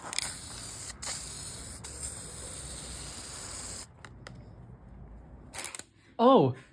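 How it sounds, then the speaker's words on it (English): A steady aerosol spray paint hisses in short bursts onto a Nissan's hood hinges for several seconds, then stops; a few brief clicks and a short vocal sound follow near the end. "We're gonna go ahead and spray this on the hood hinges."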